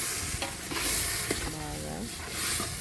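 Goat tripe curry stirred in a pan with turmeric and salt, a frying hiss running throughout with scraping stir strokes, and a brief tonal whine partway through.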